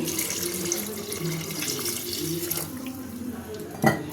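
Water runs from a tap into a pressure cooker, a steady pouring and splashing stream lasting throughout, with a brief louder clatter near the end.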